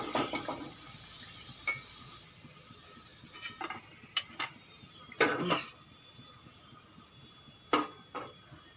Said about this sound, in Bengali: এই দেখুন উল্টে পাল্টে আমি এরকম কালার করে ভেজে নিয়েছি এখন তুলে নেব